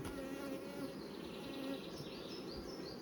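Honey bees buzz close around a hive after an artificial swarm, a dense droning hum with individual bees whining past, steady and moderately loud over three seconds.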